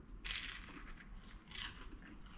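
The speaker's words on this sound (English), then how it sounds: "Listen to the crunch." Two crisp crunches as a ham and cheese toastie on buttered bread is bitten into, close to the mic and fairly quiet, with a short pause between bites and no talking.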